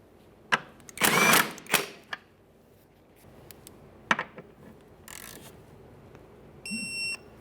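Ratcheting and tightening bursts as upper shock absorber mounting hardware is torqued on a 2013-2020 Ford Fusion, several short mechanical bursts with clicks between, then a brief steady electronic tone near the end.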